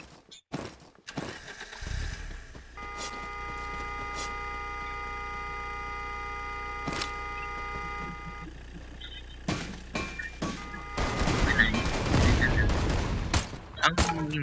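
Gunfire in the Free Fire mobile battle game, with steady game-engine tones and bursts of rapid shots building to a dense, loud volley near the end.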